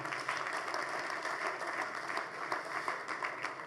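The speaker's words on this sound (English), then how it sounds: "We should clap for them." Audience applause at a Zenith Bank annual general meeting fills the hall, a steady, moderately distant wash of clapping with no clear break.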